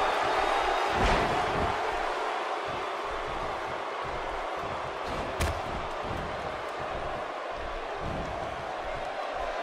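Dense roaring arena crowd at a SummerSlam wrestling event in the video game WWE 2K16, a continuous loud wash of cheering with occasional sharp thuds and spikes throughout.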